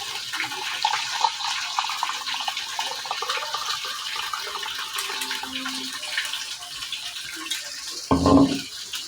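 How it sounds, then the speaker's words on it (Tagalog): A glass of Sprite is poured into a pot of chicken feet adobo, making a soft, continuous liquid trickle over low background hiss, with a brief louder splash near the end. "lagyan natin ng isang basong Sprite."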